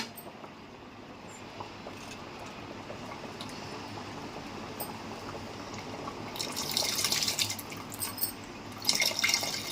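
Tamarind juice being poured into a pot of simmering chicken sambar, a soft liquid pour over a low bubbling background that builds into brief splashy bursts near the end, with no voices.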